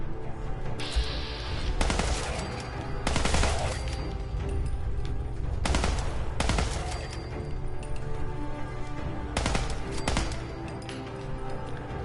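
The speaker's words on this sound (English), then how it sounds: "Can't beat an exploding bullet gun, that's all I can say" Exploding-bullet gun firing in Fallout 4, loud repeated bursts of shots with booming impacts, several volleys spaced a second or two apart over a constant background rumble.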